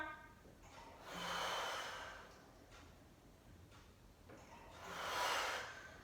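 Slow, audible breaths during a reformer Pilates exercise: two long, airy exhales about four seconds apart, with quieter inhales between them, close and soft.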